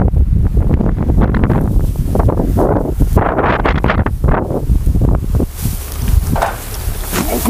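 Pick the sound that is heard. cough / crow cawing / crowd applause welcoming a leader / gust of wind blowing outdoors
gust of wind blowing outdoors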